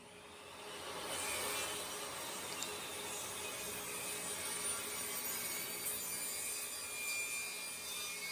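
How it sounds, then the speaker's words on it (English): A saw cuts through pecan wood on a sled for an end table, producing a faint, steady rasping whir that holds evenly for several seconds after a short quiet start. "we reattach the clamps and we saw it again"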